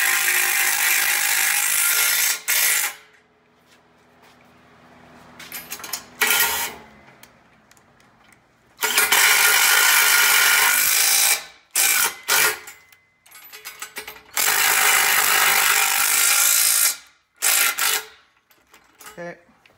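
A ratchet tightens bolts on an AS300 plate during assembly, loud rapid clicking in several long bursts separated by quiet pauses and shorter clicks.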